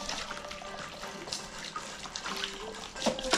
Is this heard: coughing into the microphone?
no